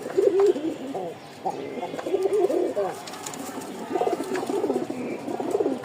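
Male Rajshahi high-flyer pigeon cooing in repeated rolling phrases, close and clear over a steady background hiss.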